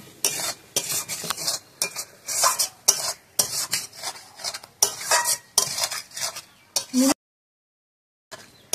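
A spoon scrapes and stirs spices and fried potatoes together in a pan for a potato-and-egg curry with cashew and poppy seed, in close, loud repeated strokes that stop abruptly near the end.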